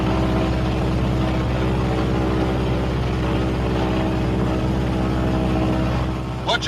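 A B-26 Marauder's engines run at steady RPM during a magneto check, giving a loud, continuous low droning roar that holds evenly from start to finish.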